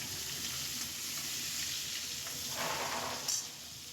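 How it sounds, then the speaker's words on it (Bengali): Prawns fry in a pan for a prawn malai curry, giving a steady, close sizzle that stays even throughout, with a brief bright hiss near the end and no talking. "দেখো মাছগুলোকে এপাশ ওপাশ করে আমি ভালো করে ভেজে নেব।"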